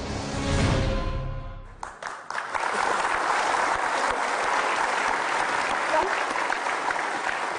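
Studio audience applause breaks out on an Indonesian TV talk show about football, sustained clapping rising after a speaking voice cuts off and continuing evenly and loudly to the end.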